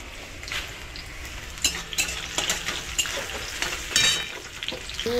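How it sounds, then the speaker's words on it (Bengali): Potatoes and vegetables frying in a home kitchen pan, a continuous sizzle broken by sharp clinks and scrapes of a utensil stirring against the metal. "তরুরি আর আলু ভাজবো"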